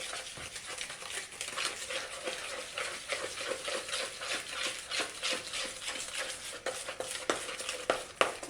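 Yogurt cake batter being mixed with flour, soft repeated scraping and stirring strokes in an uneven rhythm, fairly quiet and close.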